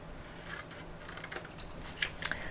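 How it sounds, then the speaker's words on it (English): Scissors snipping away the corner of a paper sheet while shaping a 3D lantern, heard as a few crisp close-up cuts with sharper snips near the end over a low background hum. "you're just going to cut away this outer hole corner."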